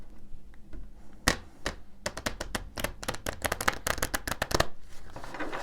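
Tarot cards are shuffled by hand nearby, a few soft riffles followed by a rapid run of crisp slapping card flicks, loud and close.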